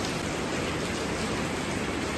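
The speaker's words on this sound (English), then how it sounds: "It's been raining since we woke up." Heavy rain pouring down on Phi Phi Island in Thailand during the rainy season, a dense, steady wash of rainfall with no gaps and no voices, loud and close throughout.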